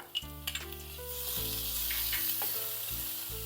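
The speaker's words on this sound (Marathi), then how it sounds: "परतून घेऊ आपण हे व्यवस्थित" Chopped tomatoes sizzle in a pan with ginger-garlic paste while cooking pearl millet khichdi, a steady frying hiss broken by a few sharp clinks of a stirring spoon.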